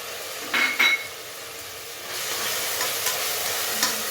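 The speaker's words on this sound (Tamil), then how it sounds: "அதையும் சேர்த்து வதக்கிடலாம்" Onions sautéing in a pan with ground tomato paste added, a steady sizzle with a couple of brief utensil clinks near the start, close and continuous.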